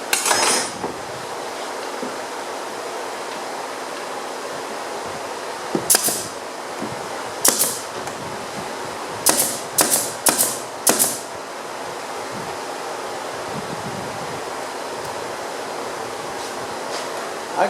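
A staple gun with no staples loaded is fired several times during mid-century modern furniture building, giving sharp, loud snapping clacks, one alone, then a quick cluster of four or five, over a steady background hiss.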